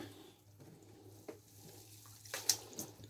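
Hot water runs into a basin to soak a skein of handspun yarn, a quiet trickle and splash with occasional louder sloshes and drips, close by.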